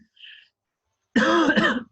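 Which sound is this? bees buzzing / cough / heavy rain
cough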